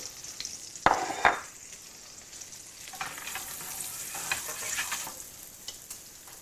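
Whole cinnamon sticks, star anise, cloves and cardamom sizzle steadily in hot oil for a Malaysian chicken pilaf, with a couple of sharp stirring clacks near the start and no talking.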